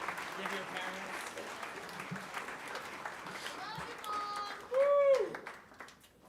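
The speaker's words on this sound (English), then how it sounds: "give everyone yourselves a round of applause" Audience applause at a high school band concert, a moderate, steady patter of clapping from a hall crowd with a voice speaking over it and a brief tonal sound near the end.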